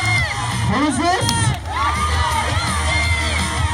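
A crowd of middle school children cheers, whoops and shouts together, loud and continuous, in a noisy school gathering.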